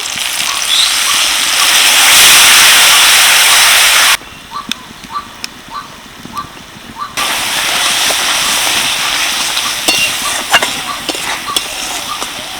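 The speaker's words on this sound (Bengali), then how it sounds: "এবার অল্প একটু জল দেব" A little water hits a hot pan of onion, tomato and capsicum spiced with chilli powder, cumin and coriander powder, setting off a loud, close, broad hissing sizzle that drops away, leaves a few faint pops, then surges back.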